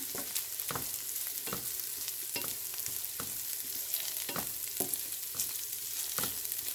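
Ladies finger (okra) fries in oil, a continuous close sizzle punctuated by regular scraping stirs of a spatula against the pan.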